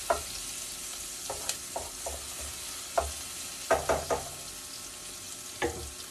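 Garlic and onion sautéing in a home kitchen pan for chicken menudo: a soft continuous sizzle broken by repeated spoon-against-pan scrapes and clinks, close and fairly quiet, with no talking.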